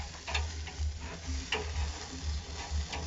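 Nando's-style chicken sizzles steadily on an open-flame braai grill, a continuous frying hiss broken by scattered pops and crackles, close and moderately loud with no talking.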